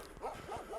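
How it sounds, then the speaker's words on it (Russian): A dog on a riverbank during an autumn float trip gives a couple of quick, faint, somewhat distant barks, muffled and brief, with no talking. "Тут собака."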